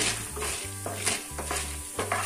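Sago pearls frying and puffing in a pan for buttermilk rasam, with soft sizzling under repeated stirring strokes and a low tonal hum pulsing on and off beneath the crackle.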